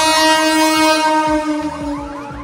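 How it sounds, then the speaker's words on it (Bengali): A train at a railway crossing in a busy, congested area blares a loud, sustained multi-tone horn close by, while rhythmic wheel clatter thumps underneath and the horn fades slightly toward the end. "দেখো ট্রেন যাচ্ছে এদিক দিয়ে"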